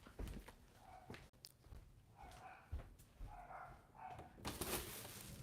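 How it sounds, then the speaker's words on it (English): Dogs bark outside in a string of sharp, moderately distant barks with irregular spacing, mixed with some rustling and handling noises. "What the fuck are these dogs barking at"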